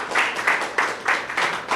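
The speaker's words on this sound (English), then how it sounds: "How about a round of applause for Cecilia's memory?" Audience applause at a Pride celebration held in memory of a woman named Cecilia, a steady wash of many hands clapping close by, swelling and easing in soft waves for under two seconds.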